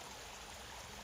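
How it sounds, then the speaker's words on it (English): Small waterfall at Glengoyne Distillery in Scotland, a water source used in distilling, giving a steady broadband rush of falling water, close and continuous with no voices. "Let's go look at a waterfall."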